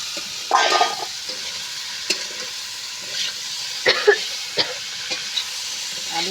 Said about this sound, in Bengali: আলু দিয়ে এইভাবে আমি ভালো করে নেড়ে চেড়ে ভালো করে আমি আলুটা ভেজে নেব